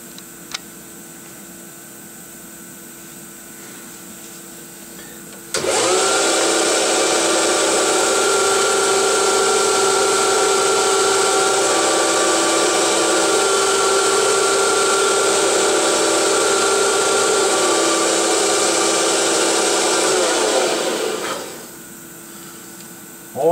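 Small 9x20 benchtop lathe spinning parts on an expanding arbor while they are polished with Scotchbrite, a loud steady whine and rub that starts abruptly after quiet, runs about fifteen seconds, then winds down.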